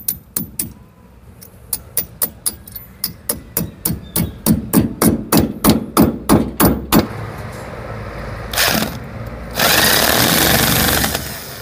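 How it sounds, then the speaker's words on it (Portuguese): Hammer blows drive a mechanical anchor bolt into a drilled concrete hole, about twenty sharp, evenly spaced strikes ringing loud and close, followed by a short burst of rough noise and then a steady louder rush. "depois só bater aqui o chumbador mecânico"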